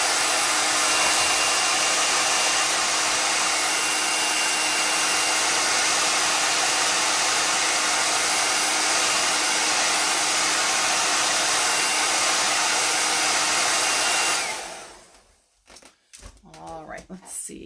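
A hair dryer blows steadily and loudly on a chalk craft piece for about fourteen seconds, then cuts off, leaving faint handling rustles.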